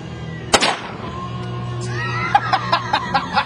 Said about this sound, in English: SKS, Yugoslavian, model 5966. On 6 rounds downrange.